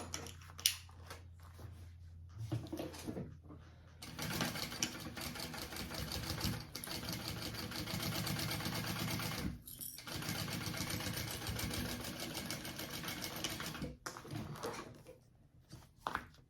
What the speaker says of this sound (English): And you're gonna sew that on.